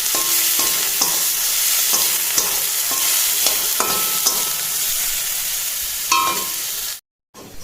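Potato pieces fry in a small amount of oil in a pan for a semolina dish, with a constant sizzle broken by repeated scraping strokes of a spatula as they are stirred.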